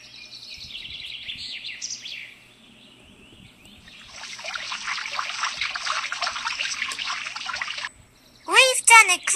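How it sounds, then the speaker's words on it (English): A watering can pours water onto flowers, a light trickle followed by a longer, fuller splashing stream, while birds chirp and a high voice speaks near the end. "Let's water them so the flowers grow faster."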